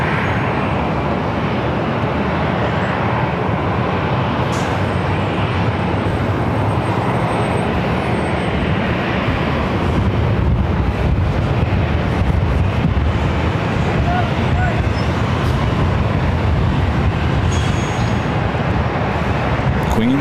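A Delta A320 airliner, an ex-Northwest jet, roars steadily and loudly at Los Angeles airport, with broad engine rumble and wind buffeting the microphone throughout, sustained without pause.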